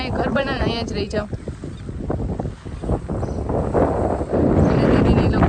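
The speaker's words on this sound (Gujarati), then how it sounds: "મે બી મારો અવાજ ના આવતો હોય બિકોઝ અહીંયા બહુ પવન છે." Strong outdoor wind buffets the microphone in low, roaring gusts that build louder toward the end, while someone talks over it at a scenic spot.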